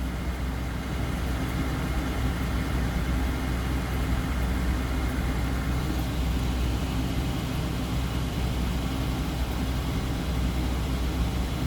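A 1996 Jeep Cherokee Sport with a 4.0 engine runs with an unknown problem, a steady, loud, low engine drone that holds constant without change or voices.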